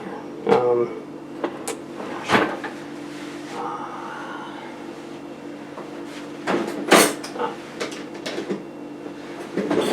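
Drawer-rummaging clatter as a slotted serving spoon is fetched from a kitchen drawer while cooking ramen: several short knocks and rattles, close by, with a voice talking between them.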